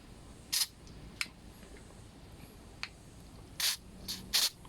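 Carb cleaner sprayed into the carburetor of a Honda GX25 blower engine, heard as a few short, sharp hissing bursts separated by quiet pauses, closer together near the end.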